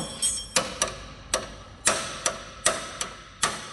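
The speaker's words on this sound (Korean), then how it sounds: "마지막으로는 중망치를 이용해서 타격을 합니다" Sledgehammer striking the blade crank of a combine harvester during a crank ball replacement, nine sharp metallic blows in a quick uneven rhythm, close and clear with no talk.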